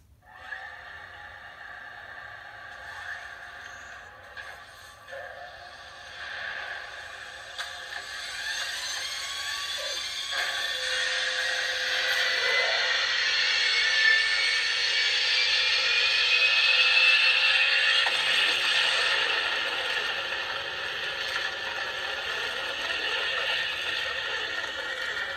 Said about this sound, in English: the classic thing that you need to do is fire up the Millennium Falcon